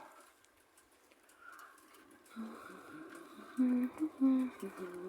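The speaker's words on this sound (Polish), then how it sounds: "Ptaszki." Soft bird calls with a few louder pigeon coos near the end, over faint outdoor background noise.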